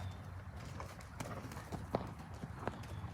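Horse hooves in a collected canter during dressage schooling for a canter pirouette, giving a steady three-beat rhythm of soft thuds at moderate distance over low background noise.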